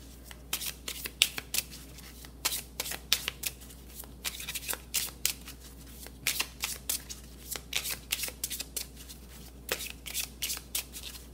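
Tarot cards are shuffled by hand in a quiet room, with rapid, crisp riffling bursts repeating close up for several seconds, pausing briefly between handfuls, with no speech.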